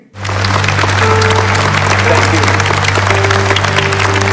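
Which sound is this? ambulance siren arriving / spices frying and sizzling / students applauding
students applauding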